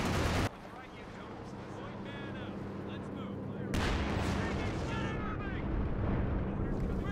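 Heavy gunfire and blasts in a video game battle as a player shoots his own troops, a sharp boom opening the scene and another later, over a constant rumbling battlefield bed with voices talking throughout.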